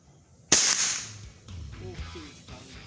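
A single sharp crack from a PCP Neo GNT Titanium v.2 air rifle shot rings out near and loud, followed by a short fading tail and quieter background movement.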